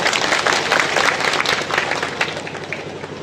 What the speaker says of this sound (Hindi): अपने लिए जोरदार ताली बजाओ